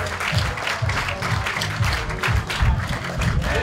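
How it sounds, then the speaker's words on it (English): A crowd claps steadily in sustained applause for cosplay contestants at a costume crowning event, dense and continuous throughout, with no pauses. "Keep those hands clapping as each one of these costumes makes their way up."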